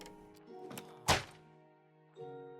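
Crossbow loaded with multishot fires in the Minecraft video game, producing a sharp thunk with a burst of crackle, followed by softer game tones and faint ticks, fairly quiet overall.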